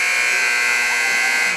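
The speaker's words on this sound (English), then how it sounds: "there's the buzzer" A basketball game buzzer sounds loud and sustained to open the third quarter of a women's college game between Miles and Central State, a single harsh electronic tone holding steady before cutting off.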